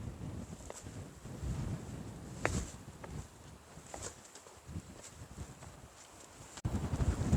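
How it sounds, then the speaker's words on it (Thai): Strong wind buffets the microphone on a cliff above the Mekong River, a continuous rough rumble with gusty bursts and scattered faint ticks over several seconds. "ลมแรงด้วยตรงนี้"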